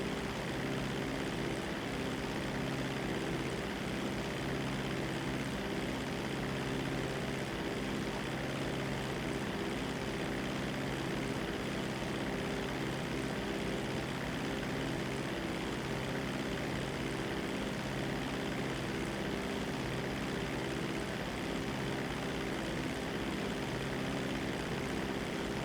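A steady, droning propeller engine of a seaplane in a video game hums continuously, even and unbroken throughout.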